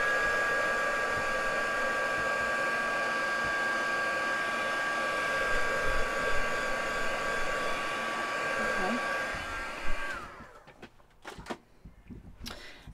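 Steady, loud whooshing roar of a hair dryer blowing over wet paint on an art piece, running for about ten seconds before cutting off, followed by a few light knocks and handling sounds.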